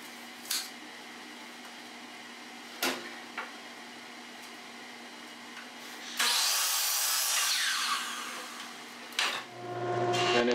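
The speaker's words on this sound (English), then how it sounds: "I'm going to cut my boards to rough length to begin with." A wooden board being cut to rough length in a woodworking shop, with a few sharp knocks and then a loud, harsh burst of cutting that lasts a few seconds before ending, no talk.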